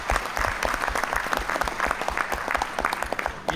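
Audience at a stand-up comedy show applauds, a dense burst of clapping running the whole time with crowd noise beneath.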